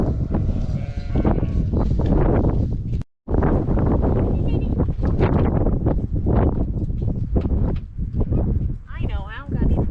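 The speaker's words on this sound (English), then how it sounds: "There's a sheep out there." Sheep bleat on a small farm, several loud calls close by and overlapping, with people talking through much of it and wind buffeting in the background.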